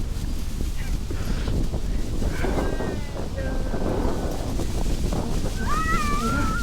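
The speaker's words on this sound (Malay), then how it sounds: "Angin kuat je." Strong wind roars steadily against the microphone outdoors at Kamikochi in Japan, a constant loud rumble, while voices and a few high squeaky calls break through near the end.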